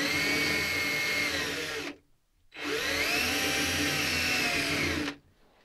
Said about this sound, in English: we're just gonna use a small pilot drill here to give us a pilot hole